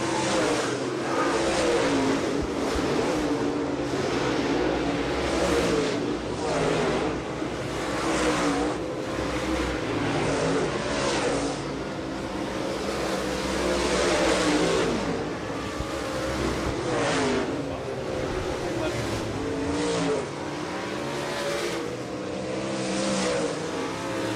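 Modified race cars accelerate along the back straightaway at County Line Raceway, a loud, continuous engine roar that rises and surges as cars pass, with no talking.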